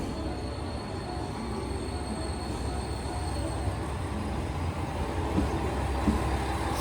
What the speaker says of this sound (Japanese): すごい大きな音が出ていますが、こちらはディーゼルエンジンで走る気動車です。